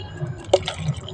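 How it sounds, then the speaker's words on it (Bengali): Water splashes into a mixer jar coated with leftover rice and lentil batter for sorucakli pitha, a single short, soft pour close by. "আমি এর মধ্যে জল দিয়ে দিচ্ছি।"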